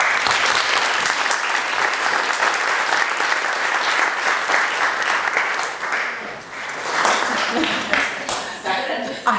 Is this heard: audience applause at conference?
yes